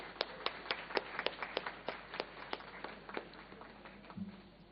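An audience at an international leadership conference claps for the tech team, with sparse, separate hand claps from a modest crowd that thin out over a few seconds, and a brief voice near the end.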